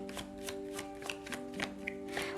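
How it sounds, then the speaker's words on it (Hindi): Tarot cards shuffled by hand, a steady run of soft papery riffles and slaps up close, with a constant electronic hum underneath. "तो चलिए शफल कर लेते हैं"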